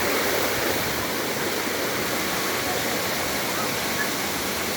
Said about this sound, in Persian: از این منظرم لذت ببریم دوستان. آبشاره.